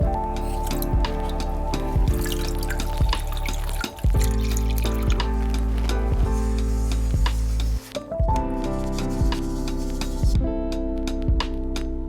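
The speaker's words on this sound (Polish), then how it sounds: "uzupełnijmy troszkę tutaj tej wody właśnie wodą z tego zbiornika, z którego wziąłem krewety" Water from another tank is poured into a small filterless cherry shrimp aquarium, giving a steady close trickle with dripping and rubbing textures and a couple of brief pauses.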